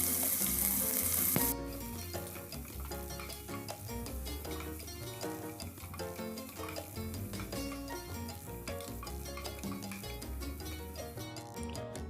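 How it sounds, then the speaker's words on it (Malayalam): Sliced onions sautéing in coconut oil for chicken kuruma, a brisk frying sizzle that starts loud, then settles under music playing throughout. "അതിലേക്ക് നമ്മൾ അരിഞ്ഞു വെച്ചിട്ടുള്ള സവാള ഇട്ട് കൊടുക്കുക. എന്നിട്ട് നന്നായിട്ടൊന്ന് വഴറ്റുക."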